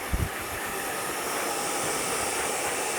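A blow dryer blasts air over hair during a trimmer fade haircut, a loud, constant, broad whooshing roar that runs unbroken throughout, with a couple of brief low thumps at the very start.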